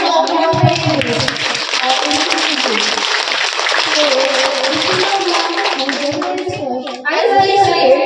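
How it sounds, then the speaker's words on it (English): An audience claps steadily through a school's annual prize distribution ceremony at London Kids School in Kedgaon. The dense, sustained applause is loud and close, with children's voices mixed in and a brief dip before the clapping swells again. "can we clap for them once again for all of your parents?"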